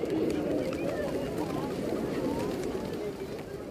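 A flock of white doves at the Blue Mosque in Mazar-e-Sharif, with soft cooing and fluttering beneath a steady wash of outdoor ambience and a voice.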